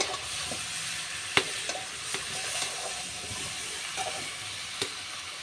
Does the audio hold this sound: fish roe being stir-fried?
yes